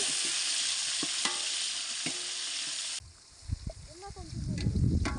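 Onions fry in a pot for a chicken biryani made with matta rice over an outdoor fire in a forest. A loud, steady sizzle with a few scraping strokes is followed by quieter stirring, clinks and scrapes.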